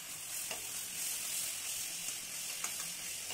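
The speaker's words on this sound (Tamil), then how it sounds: "நல்லா சேர்த்து அழகாக வதக்கி எடுங்க" Steady sizzling of onions and tomatoes sautéing in a pan, with occasional soft stirring scrapes, close and moderately quiet, no talking.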